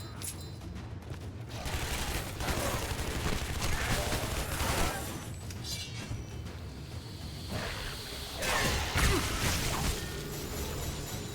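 Gunfire from the shooter Shadow Warrior (2013) plays as moderately loud volleys and impacts amid crashes and swooshes, with a voice talking faintly in places.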